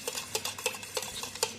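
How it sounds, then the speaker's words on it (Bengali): A spoon stirs sponge chocolate cake batter with oil mixed in, giving soft, quiet scraping and clinking strokes in a steady rhythm of about six swishes, close by and with no talking. "ভালো করে মিক্স করে নেব।"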